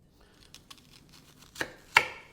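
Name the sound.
knife chopping vegetables on a cutting board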